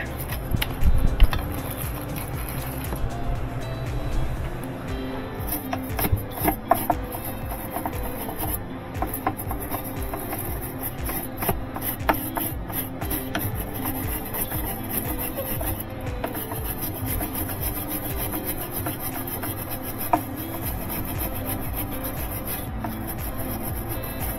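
A brush scrubbing dirt off the screws of a Whirlpool Cabrio washer's tub hub, a continuous close scratchy rubbing with uneven strokes and occasional knocks.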